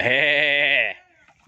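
A single loud, close goat bleat, held for about a second, rings out near rural rice fields in Laos, then fades into quiet.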